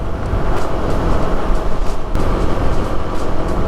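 A 2021 Kawasaki KLX300 dual-sport motorcycle cruises on the road with a loud, steady engine drone and rushing road and wind noise, close up and continuous.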